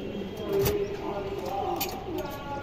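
A female pigeon coos softly in a couple of low, rounded calls against a steady background hum, with faint chirps from other birds nearby.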